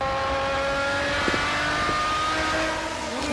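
GT race cars at full speed during the Spa 24 Hours endurance race, a steady loud engine drone with rising and falling harmonic whines as cars pass close by, no voices.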